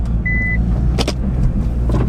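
A tuned Nissan GT-R with a stock exhaust and decapped downpipes drives off with a loud, steady, deep engine rumble close by.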